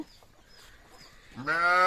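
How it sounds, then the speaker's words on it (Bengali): A Sahiwal calf or local breed cow on a farm in Dinajpur gives a single short, nasal bleating moo that breaks in loudly and near at the end after quiet background. "গাভী বাছুর সেই সাথে বাচ্চাগুলো কিন্তু শাহিহল জাতের বাছুর এবং দেশাল জাতের গাভী"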